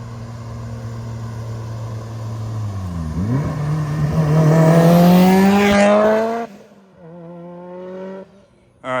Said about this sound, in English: Got a friend driving the Evo. This thing sounds so good